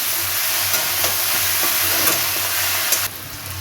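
White and black mustard seeds fry in hot oil on a gas stove, giving a steady close-up sizzle with scattered crackles and pops and no voices.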